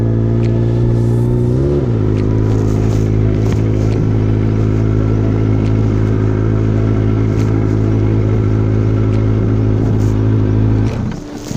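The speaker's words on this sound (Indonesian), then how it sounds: "Nggak perlu digas, cukup dilepas kopling, nanti motornya udah jalan." Kawasaki ZX-25R 250 cc sport bike with an Akrapovic exhaust rolls off on the clutch alone: a loud, close, steady multi-cylinder drone with a slight pitch shift near the start, running evenly until it fades at the end.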